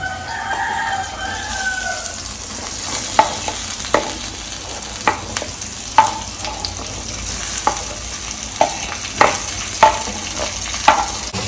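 Raw mango pieces sautéed in a pan with oil and asafoetida, a steady low sizzle under repeated sharp clinks and scrapes of a spoon stirring, about one every second, close and moderately loud.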